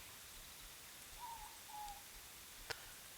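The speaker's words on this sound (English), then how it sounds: "that is a native New Zealand owl, and we call it a moorpork, or in Māori, ruru." A native New Zealand morepork owl, or ruru, gives two soft hoots from a distance during rain at a car campsite at night, faint against a steady hiss, followed by a brief sharp knock.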